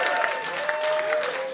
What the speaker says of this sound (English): A round of applause, please, ladies and gentlemen, the Raw Box Hotel.